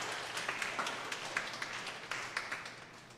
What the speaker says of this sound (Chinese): 让我们给自己一个最大的掌声